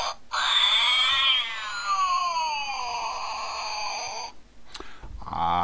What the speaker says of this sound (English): demon cat